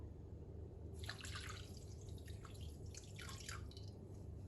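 Water poured into a tart dough mixture of sugar and vanilla, a soft close trickle and splash lasting a few seconds, faint over a low background hum, with no talking.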